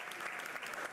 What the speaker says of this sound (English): Please keep on clapping.